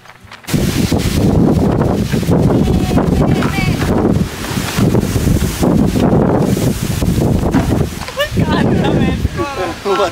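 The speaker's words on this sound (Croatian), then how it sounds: "toliko je jako puhao vjetar da je kanta odletala" A strong windstorm sweeps across an outdoor vegetable garden, producing a loud, continuous roar and buffeting with surging gusts that barely let up, and a faint voice surfaces briefly near the end.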